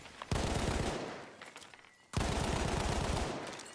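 Gunfire in the video game Battlefield 1: two loud rapid bursts of automatic fire, each about a second long, separated by a short pause, with no talking.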